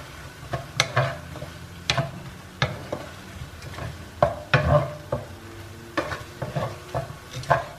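Grilled tempeh sambal is stirred in a pan, a series of irregular scraping and clinking strokes of a utensil against the pan with a soft sizzle underneath, close and fairly quiet, no voices.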